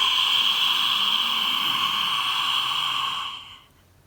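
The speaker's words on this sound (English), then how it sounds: "Open mouth, exhale." A steady, breathy exhale through an open mouth during a yoga breathing exercise, close and alone for about three seconds before fading into quiet.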